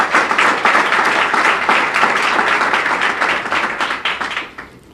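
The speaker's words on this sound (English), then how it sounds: "I want you to give the Premier of the Virgin Islands a round of applause" A crowd at a youth apprenticeship programme launch and job fair gives the Premier of the Virgin Islands a round of applause, loud, close clapping with distinct hand strikes that swells and then tapers off at the end.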